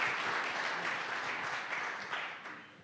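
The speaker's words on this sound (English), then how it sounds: "Would you give a rousing round of applause to Don?" An audience applauds speaker Don at a testimony talk, a steady dense wash of many hands clapping at moderate distance that gradually thins out toward the end.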